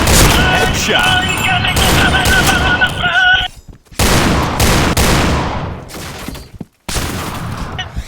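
A first-person shooter video game plays loud, sharp bursts of shotgun fire in quick succession, separated by short silent gaps. Game sounds ring underneath, and there is little talk.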